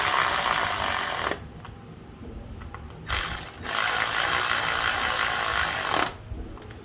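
A ratchet tightens spark plugs on a 2012 Cadillac SRX 3.6L engine, heard as two loud bursts of rapid clicking separated by a quieter pause, close and with no talk.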